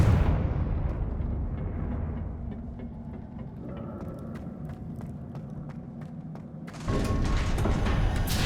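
Confringo blasting spell in the Hogwarts Legacy game, a loud rumbling explosive burst that decays into a long low roar with faint crackles, followed near the end by a second sharp surge of blast noise.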